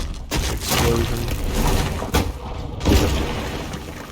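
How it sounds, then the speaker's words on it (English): An explosion spell goes off in Divinity Original Sin II, a loud burst of booming, shattering impacts near the start followed by a second heavy thud later, with game effects rumbling between them. "Explosion."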